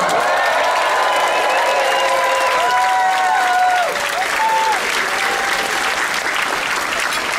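Dinner guests in a cruise ship dining room aboard Odyssey of the Seas applaud the culinary team during a formal dinner, loud sustained clapping with whistles and cheers rising over it.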